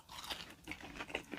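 Jack in the Box poppers crunch loudly at very close range, a quick run of crisp bites and chewing crackles with no talking.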